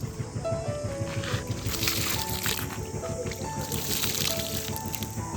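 Water from a filled bucket poured onto garden soil for planting a pineapple top, a soft continuous splashing and trickling at close range with faint tonal background sounds.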